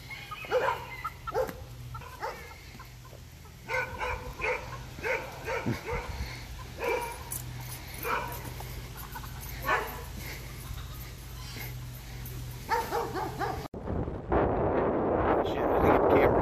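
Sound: dog barking at a rooster

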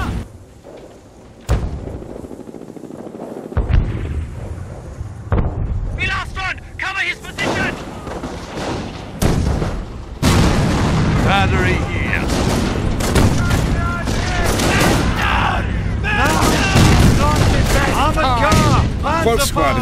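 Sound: gunfire and artillery in video game Company of Heroes

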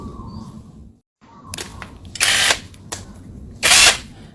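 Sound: power tool removing nuts from a Toyota Vios radiator fan motor

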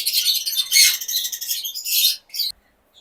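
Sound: pet parrots and lories squawking at a bird farm

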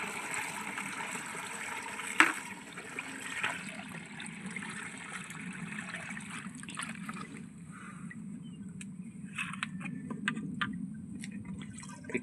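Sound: water being poured onto guava tree

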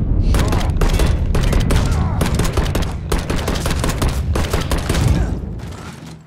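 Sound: gunfire in Mafia III video game

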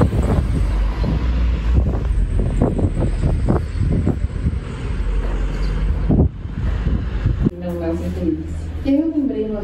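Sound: strong wind on a clear day

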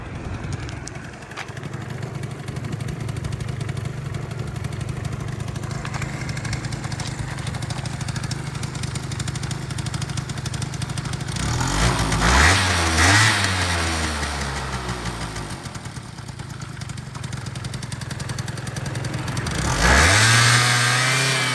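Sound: moped scooter engine idling and revving

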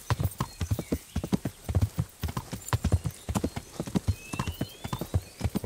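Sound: horse hooves while riding in Kingdom Come: Deliverance video game

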